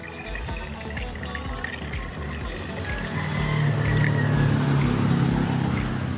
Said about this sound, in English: Fill the hot water bag to 1/2 or 2/3 full.